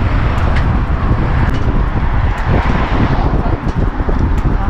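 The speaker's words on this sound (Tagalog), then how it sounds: "Napakalakas ng hangin, napakalamig." Strong, cold wind roars steadily and loudly across the microphone near a river bridge on a sunny day, a constant rushing buffet with no pause.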